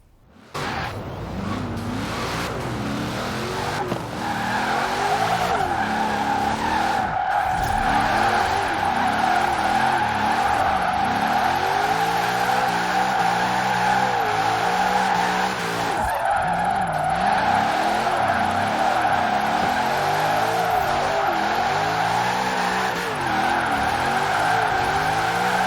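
A Ford Shelby GT500 in Forza Horizon 4 drifts with long, loud tire squeal over a revving, warbling engine, the screech holding steady through the run with brief shifts in pitch.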